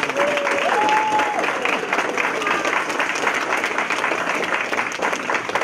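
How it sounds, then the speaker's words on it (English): Audience applause at a Montgomery County Board of Education meeting, a steady, dense round of clapping filling the room, with a brief whistle or voice rising early on. "Let's give them one more round of applause."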